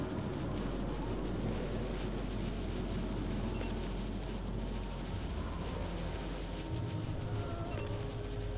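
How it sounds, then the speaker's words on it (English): A helicopter in the video game God Eater Resurrection flies off, heard as a dense, steady roar of rotor and engine noise that stays loud and constant throughout with no talk. "I'm not sure the helicopter had enough time to go all the way back"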